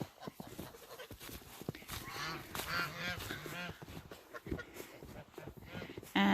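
Geese honk repeatedly on a farm in snowy weather, loud and close, with a few ducks, other farm animals and someone speaking briefly among the calls.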